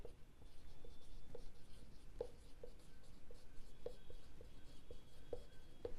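A pen writes on paper with short, scratchy strokes in an irregular rhythm, close and soft against a quiet room, with no talking.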